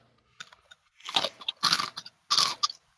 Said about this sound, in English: This is the sound of eating eggs.